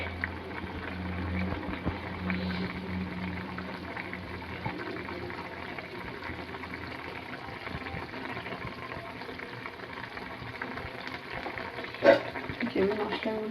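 Masala spices for a pabda fish curry fry and sizzle steadily in a pan, with a continuous hiss and a brief louder clatter near the end.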